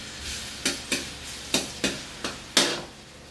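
Garlic frying in hot oil for ginataang kalabasa at sitaw, with a soft steady sizzle under seven sharp spatula scrapes and taps against the pan, spaced irregularly about every half second. No one speaks.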